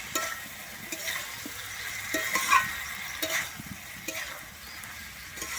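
A spoon scrapes and stirs fried flat beans and potatoes into spice paste in a sizzling pan, with steady frying crackle underneath and occasional louder scraping strokes, close by.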